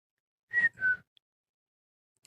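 A voice imitates a whistle heard from the roadside at a bend, giving two close, fairly loud whistled notes in quick succession, each holding a steady pitch, followed by near silence.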